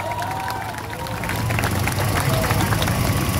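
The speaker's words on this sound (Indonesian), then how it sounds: "Tepuk tangan untuk kawan-kawan kita yang berani memasang." A protest crowd applauding outdoors, a steady wash of clapping and crowd noise that swells after the first second, following a speaker's voice.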